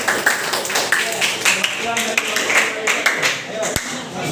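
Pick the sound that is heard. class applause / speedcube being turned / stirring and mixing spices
class applause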